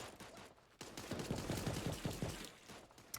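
SMG bursts in the Super Animal Royale video game, a rapid string of close automatic shots fired in a steady rhythm for about two seconds, standing alone.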